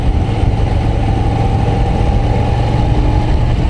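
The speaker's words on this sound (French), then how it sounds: "Ah, il me plaît bien ce moteur." Steady mid-low engine rumble from a Moto Guzzi V9 Roamer V-twin motorcycle on a ride, running continuously and fairly loud throughout, with no voices over it.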